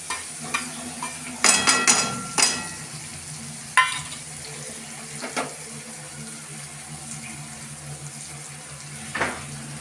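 Roasted gram flour is stirred into a masala frying in oil for masala bhindi. A soft sizzle runs under scattered scraping stir strokes from a spoon in the pan, with a few sharper clinks and no talking.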